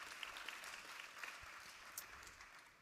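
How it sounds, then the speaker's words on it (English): Conference audience applauds in a large hall, a faint, steady patter of many hands clapping, distant and fairly quiet, lasting the whole short stretch. "Give a round of applause."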